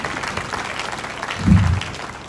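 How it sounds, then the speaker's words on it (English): Audience clapping at a university inaugural lecture, a brief burst of applause in a hall that swells midway and then tapers, with a low murmur underneath. "Please give her a round of applause."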